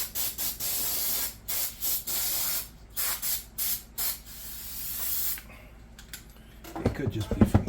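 Cleaner sprayed onto a 1983 Kawasaki KL600 engine in a series of short, sharp hissing bursts, followed by a longer spray and then clattering handling noises.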